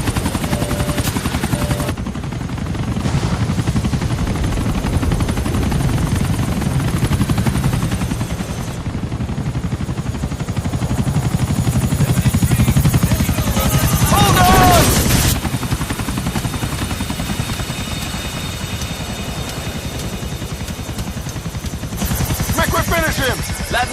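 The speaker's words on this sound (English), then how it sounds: "both the choppers does land in this little island here" Helicopters in the video game GTA IV keep up a steady, loud rotor thrum for the full stretch, with bursts of gunfire cutting in and a voice talking faintly underneath.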